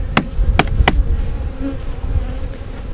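Honey bees buzz steadily inside a hive holding around 60,000 bees of a gentle Hawaiian-sourced queen line, a close, continuous drone with a few sharp knocks near the start.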